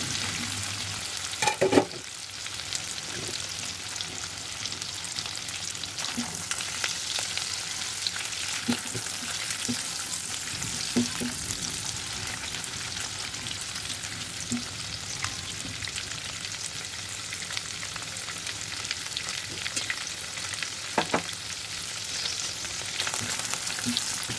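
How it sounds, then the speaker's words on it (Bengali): Prawns fry in hot oil with fried onions, giving a steady, close sizzle with occasional stirring clinks and scrapes and no talk. "পেঁয়াজ ভাজা তৈলের মধ্যে আমি চিংড়ি মাছগুলোকে ভাজি করে নেব"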